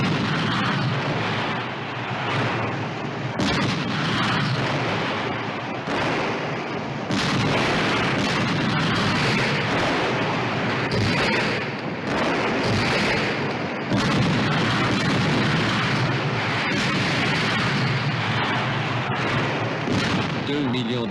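Russian artillery in the Battle of Berlin, a dense, continuous roar of booms and blasts rumbling for about twenty seconds, loud and close, with a voice speaking over the barrage.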